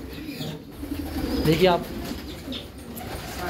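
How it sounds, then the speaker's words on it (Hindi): Pigeons at a pigeon-keeping farm in Meerpet, Hyderabad, give a brief soft cooing call partway through, with faint wing flutters around it, while someone talks close by. "बहुत खूबसूरत कबूतर है"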